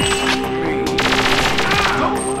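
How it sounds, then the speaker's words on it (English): Rapid gunfire bursts from the Perfect Dark video game at the Carrington Villa level, a steady, dense stream of automatic shots with loud crackling repeats filling the whole moment. "who's shooting at me?"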